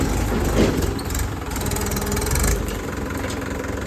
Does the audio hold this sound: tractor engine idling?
yes